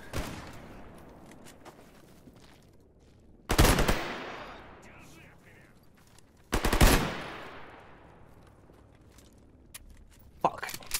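Two loud bursts of automatic gunfire from S.T.A.L.K.E.R. GAMMA, each a sharp crack trailing off over a couple of seconds, with a faint pop near the end and quiet background noise between.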